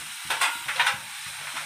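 Green chili paste sizzles in a hot pan while being stirred and sautéed for a dry potato dish, with a steady frying hiss broken by a few short scraping strokes of the spoon.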